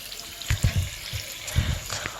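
Water running for a wash, heard as brief, faint trickling splashes in a few soft bursts.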